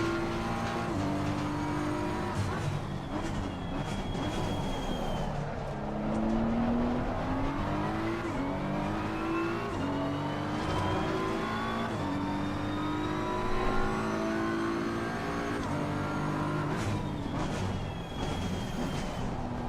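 Race car engine in the sim racing game Assetto Corsa Competizione, driven around the Zolder circuit, revving hard through repeated upshifts and downshifts for a continuous stretch, with tire squeal and no talking.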